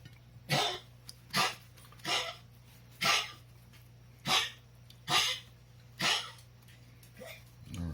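A dog with a congenital heart condition coughs repeatedly, about eight harsh, hacking bursts spaced roughly a second apart, close and fairly loud over a low steady hum.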